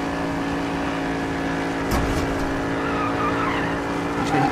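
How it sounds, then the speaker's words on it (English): Jaguar F-Type in the racing game Need for Speed No Limits, drifting with continuous engine drone and tire squeal, plus a brief impact-like thump partway through and a rise in squeal near the end. "Keep drifting."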